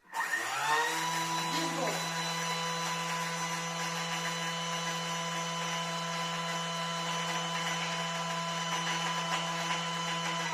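A blender runs flat out at full speed grinding sugar into icing sugar, a loud, steady whir that holds without a break. A voice speaks briefly near the start.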